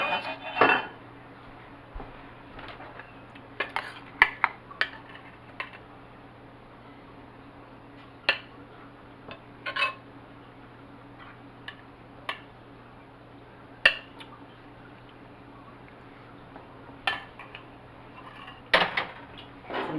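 Dry pasta is added to a pan during cooking, heard as a series of scattered clinks and clatters of utensils and cookware against a quiet background, with a sharper cluster of knocks near the end.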